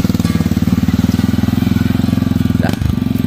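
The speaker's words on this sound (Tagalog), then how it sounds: "Kayang-kaya. Lakas ng motor." A motorcycle engine runs loud and close in a steady pulsing idle, its rapid low throb holding throughout with a brief dip near the end.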